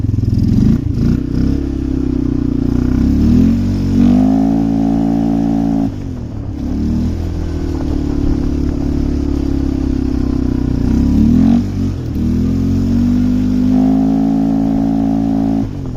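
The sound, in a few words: vehicle engine throttle revving in deep snow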